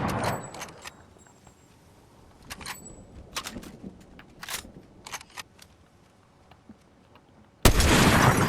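Gunfire in the video game Fortnite: scattered distant single shots crack sporadically through a quiet stretch, then a loud burst of dense noise erupts at the very end.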